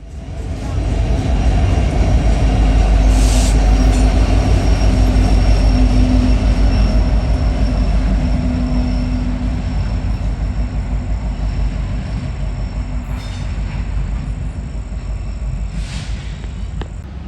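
Short Norfolk Southern freight train rumbling past with a BNSF SD70ACE locomotive trailing at the rear, a loud continuous roar of rail cars with low engine drone and steady wheel noise throughout.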